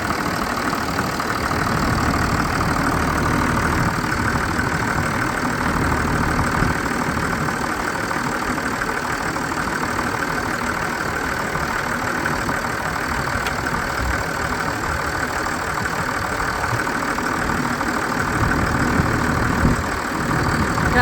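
A tractor engine idles steadily for the whole stretch with a continuous rough, knocking rumble and no voices.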